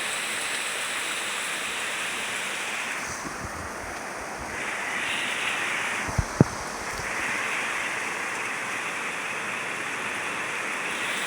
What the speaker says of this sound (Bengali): আমাদের তো এখানে প্রচুর পরিমাণে বৃষ্টি হচ্ছে